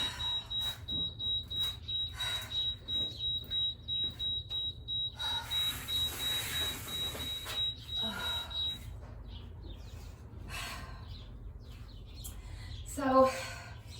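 Steady electronic beeping from an exercise timer during a workout, a thin high tone pulsing for several seconds over a low rumble, then stopping, with a short chirp near the end.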